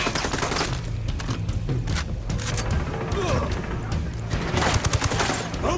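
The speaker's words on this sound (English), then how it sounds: "Opening fire!" Heavy gunfire rattles through a firefight in Ghost Recon Wildlands, dense overlapping machine-gun bursts and single shots, loud and continuous, with voices briefly calling out amid the shooting.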